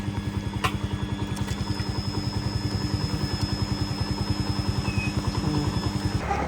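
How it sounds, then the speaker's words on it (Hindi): A friend's motorcycle engine runs steadily and close by, its even low putter pulsing on a road near Burewala, with a brief clatter near the start and a slight rise at the very end. "तो ये वाली जो बाइक है बशीर भाई की, हम ये लेके जाएंगे"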